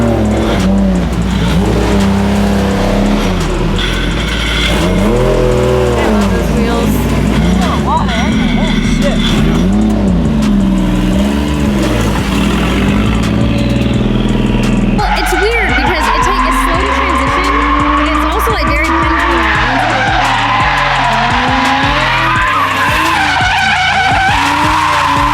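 A Toyota JZX100 drift car drives hard, the engine revving up and down in repeated surges while the tires skid and squeal. Loud and close throughout, with voices talking over it.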